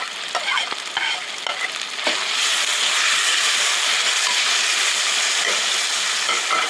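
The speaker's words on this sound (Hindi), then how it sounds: "थोड़ी देर में इसे भी इस तरह से फ्राई होने दूंगी।" Vegetables with tomatoes and green chillies fry in a pan for chana dal with karela, a steady loud sizzle swelling after a few seconds of stirring clatter, with no voices.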